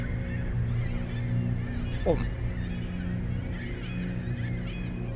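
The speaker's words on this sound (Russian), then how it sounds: "А, вот почему птицы здесь кричат. Птицы каркают." Birds cry out with honking, goose-like calls in the horror video game The Lightkeeper, set at a lighthouse, repeating over a steady low game ambience with a brief sweeping tone partway through.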